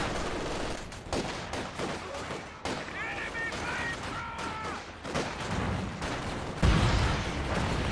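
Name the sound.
tank battle gunfire in a video game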